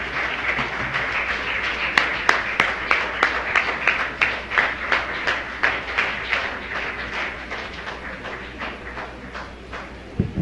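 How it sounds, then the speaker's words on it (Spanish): A church congregation applauds at a Spanish-language service, a dense wash of steady clapping that builds into sharp, regular rhythmic claps in unison, carrying loud throughout the room. "Denle un fuerte aplauso allá al Señor."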